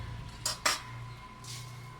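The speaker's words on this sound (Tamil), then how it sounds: "இப்போ தான் அந்த சாப்பாடை வந்து கிளறேன்" Cooked rice soaked overnight with tamarind water being stirred in a metal pot in a home kitchen, giving two sharp utensil scrapes and clinks close by, then a softer scrape, over a steady low hum.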